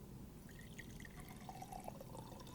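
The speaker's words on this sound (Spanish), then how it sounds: "Llenamos nuestro vaso con agua" Water poured into a drinking glass, a faint continuous trickle with small bubbly splashes over a low background hum, no one speaking.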